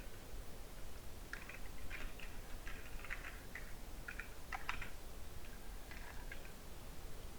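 Faint keyboard typing on a computer during PDF editing in Adobe Acrobat Pro DC: scattered quiet clicks in short clusters over a steady background hiss, with no speech.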